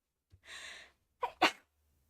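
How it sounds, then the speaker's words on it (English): A single sneeze begins with a drawn-in breath, followed by a short pause and then a sharp double burst close to the microphone, after which it falls silent. "Oh, I have to sneeze."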